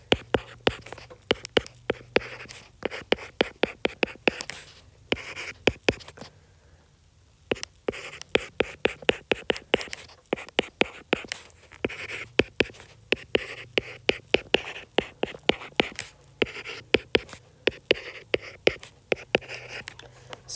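Pen or marker writing out a slope-intercept math equation, heard as steady, evenly spaced scratchy strokes and taps up close. A short pause comes midway, then the writing carries on alone with no speech.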